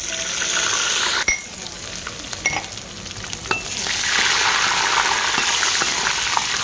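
Dry red chillies and bay leaves sizzle and crackle in hot oil, a loud, dense frying hiss with a few sharp pops and clinks of utensils, no voices.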